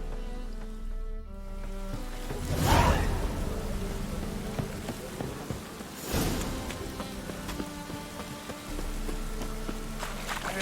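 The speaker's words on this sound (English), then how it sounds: "It's raining again." Steady rain falls in a city scene of The Witcher 3: Wild Hunt, a broad hiss that keeps going under game music and ambience, with brief louder swells near the start and middle.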